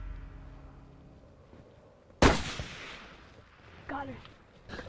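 A single sharp rifle shot at a whitetail doe during a hunt cracks out loud and close, its echo decaying over a second, followed by faint murmured voices and rustling.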